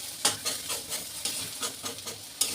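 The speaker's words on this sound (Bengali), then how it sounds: "ডিমটা দিয়ে এখন নাড়ন চালন হচ্ছে" Egg and potato frying and sizzling in a pan while being stirred, with repeated scraping strokes in an irregular rhythm, close and moderately loud, with no talking.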